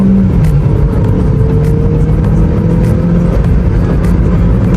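A 1988 Royal Enfield Bullet motorcycle engine in sports mode roars steadily and loudly close by, revving under acceleration with a gritty, throaty rumble throughout.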